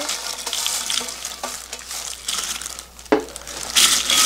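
Crisp, crackly rustling as dry, crunchy pollock skin is stirred and tossed close by, with irregular crinkling bursts and a brief louder clatter near the end.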